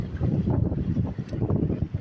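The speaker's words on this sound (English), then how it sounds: "It's windy as all get out" Strong wind buffets the microphone in heavy, gusty rumbles over water, loud and continuous, cutting off abruptly at the end.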